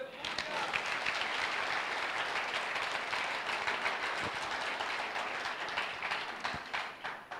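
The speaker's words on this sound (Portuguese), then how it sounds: "Quantos podem dar um aplauso ao Senhor?" Church congregation applauding during a worship service, broad sustained clapping from a large crowd with a few voices calling out, continuous for the whole stretch and tapering slightly at the end.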